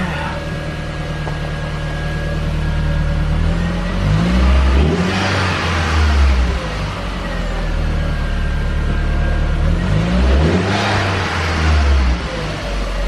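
Audi engine revving with all four wheels spinning after a Haldex all-wheel-drive repair, two long rising surges of acceleration that swell and fall back, loud and close with a whirring drivetrain underneath.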